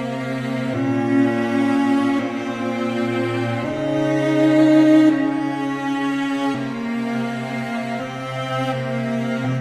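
A sustained melody on orchestral bowed strings over a steady harmonic bed, changing notes slowly every couple of seconds, in Sekiro-style samurai battle music. Full, continuous and without any voices.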